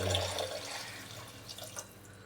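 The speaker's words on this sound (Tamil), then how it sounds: "இப்போ இதில் வந்து நம்ம தண்ணியை சேர்த்துக்கிறோம்" About three glasses of water pour into a pot for moringa sambar, a faint splashing trickle that fades over a couple of seconds in a quiet kitchen.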